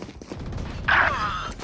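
A single sharp burst of gunfire from the Valorant video game, heard during a pro match watch party, rings out briefly and close, with faint talk underneath.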